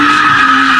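A BMW E36 drifts with a loud, sustained tire skid, a steady screech blended with the engine, close and unbroken for the whole moment.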